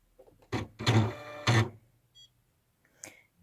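A home embroidery machine stitches directly on stabilizer with no fabric, for an in-the-hoop zipper bag. Three short, close whirring bursts are followed by a couple of small electronic beeps.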